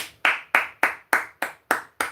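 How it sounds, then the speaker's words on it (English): Eight single hand claps in a slow, steady rhythm, each one sharp and close, with nothing in between. "I clap it up for you"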